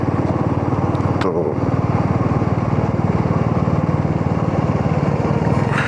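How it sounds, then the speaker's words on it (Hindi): A Royal Enfield Himalayan 450 motorcycle rides past on a road near Solan, its steady engine drone loud and continuous throughout, with a faint voice and some wind noise mixed in. "ये जा रहा है हिमालयन 450"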